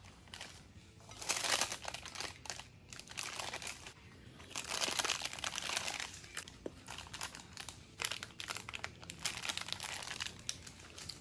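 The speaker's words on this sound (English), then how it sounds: "remove the wax paper." Wax paper is peeled slowly off the sides of a freshly iced lemon blueberry cake, giving continuous close crinkling and soft tearing rustles with uneven bursts.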